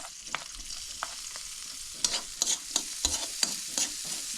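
Garlic sautés in a frying pan (kawali) with a steady soft sizzle, broken by sharp scraping clicks of a spatula stirring against the metal, coming faster toward the end.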